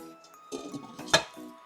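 Metal lid clinking onto a cooking pot of mutton dalcha, a few light clatters building to one sharp ringing clank near the end, close and fairly quiet.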